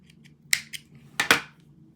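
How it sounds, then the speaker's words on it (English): Scissors snip through scrap yarn on a crochet tote bag, several crisp close cuts in quick succession with quiet moments between, no speech. "I'm gonna go ahead and snip my yarn off"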